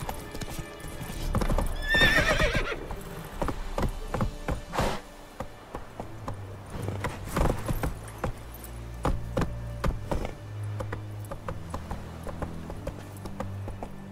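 A horse in The Witcher 3 gallops with rapid rhythmic hoof clip-clops, loud and close, and lets out a shrill neigh early on as the hoofbeats continue throughout.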